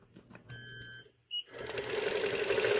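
A sewing machine stitches along a quilting ruler, starting after a few soft clicks and a brief beep, then running steadily and close for over a second.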